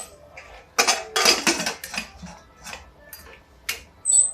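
A pressure cooker lid is clanked shut onto a steel pot of dal with turmeric in a home kitchen, giving several sharp metallic knocks and rattles close by with short pauses, then a final clink.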